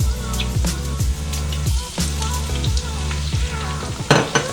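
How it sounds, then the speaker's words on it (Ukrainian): Loud, steady sizzling of mussels frying with onions in a pan, with occasional stirring and scraping sounds over the crackle. "Далі в обсмажену цибульку ми з вами додаємо мідії"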